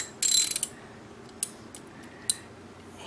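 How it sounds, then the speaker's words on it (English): A ratchet tool attachment clicks in a short rapid burst while an upstream oxygen sensor is fitted on a 1998 Honda Civic, followed by two brief isolated ticks, close and alone. "My ratchet attachment, my ratchet tool attachment that I told you about."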